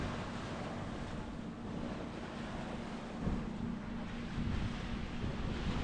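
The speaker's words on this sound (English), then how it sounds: "here is the sea" Sea waves washing against rocks along the coast at Ayia Napa, Cyprus, a low steady surf wash with wind noise on the microphone and no talking.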